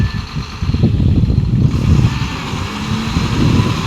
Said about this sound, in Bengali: একদম পুরো ভাটায় একদম লেল্যান্ড গাড়ি ক্যাপাসিটি দেখো।